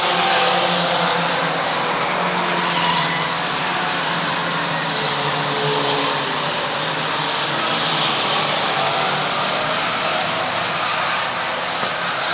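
Mini stock race cars, including a Honda, a Ford Mustang and a Chevrolet, roar around the Waterford Speedbowl track, with a steady loud engine drone and passing swells that continue without a break.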